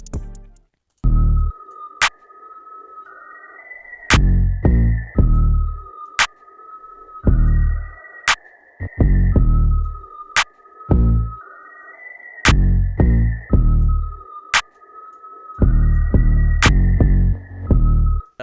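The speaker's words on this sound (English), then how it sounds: "So for the 808 part, I'll just play it so you guys can hear." Deep booming 808 bass notes pulse in a syncopated pattern alongside sharp, bright percussive hits, loud and upfront with no voices.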